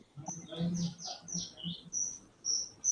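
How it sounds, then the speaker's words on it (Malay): Bird chirping in quick, high tweets and short trills, repeated throughout, with a low voice murmuring underneath. "Bunyi burung rumah siapa lah?"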